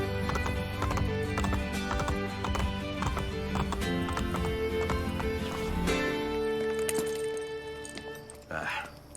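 Horses clip-clop and whinny in the Assassin's Creed: Brotherhood game, a steady hoof rhythm running throughout under game music, with a brief break near the end.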